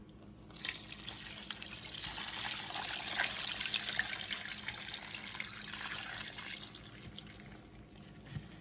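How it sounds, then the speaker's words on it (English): Herbal tincture liquid pours from a bottle in a steady, continuous splashing stream lasting several seconds before tapering off, close and alone. "So literally all we do is pop the top and pour it in."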